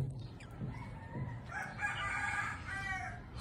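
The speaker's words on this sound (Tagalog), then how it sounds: "Meron pong ibon." A rooster crows once in a rural morning setting, a clear mid-distance cock-a-doodle-doo over faint background noise, with no talking.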